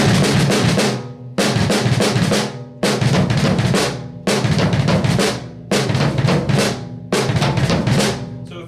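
A choppy drum pattern of snare hits and bass drum thumps plays in uneven bursts with brief stops between, loud and close, with no voices.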